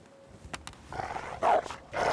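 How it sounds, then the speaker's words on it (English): Wolf in The Long Dark survival game giving short growls and rising howl-like cries, with a few sharp bursts and louder snarling swells toward the end, fairly close. "There's a wolf there."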